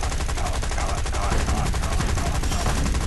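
Machine gun fire raking a fighter plane in War Thunder, a loud, dense, rapid stream of shots with an even rhythm that runs unbroken for the whole stretch.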